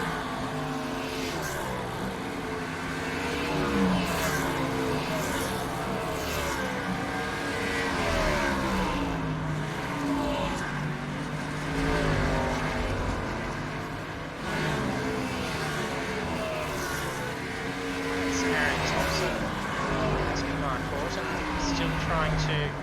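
NASCAR Cup race cars in the iRacing sim lap USA International Speedway, their engines droning and rising and falling steadily at a moderate distance while a commentator talks over them throughout.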